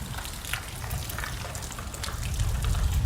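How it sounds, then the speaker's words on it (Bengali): Heavy rain falling steadily at midday, a dense, even hiss with scattered drip and splash ticks and a rush of running water, close and continuous with no voices. "এখনো বৃষ্টি হচ্ছে গাইস দুপুরে"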